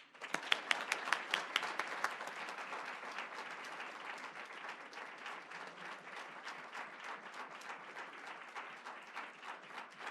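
An audience applauds to welcome the 2017 Bernstein lecturer at a law lecture, dense steady clapping from a full hall with a few sharp individual claps at the start, continuing evenly for about ten seconds.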